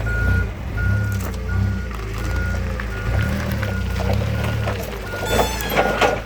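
A forklift backing up as it lifts a Cummins 4BT engine out of a box truck, steady repeated reversing beeps over a low idling diesel rumble, with faint clanks near the end.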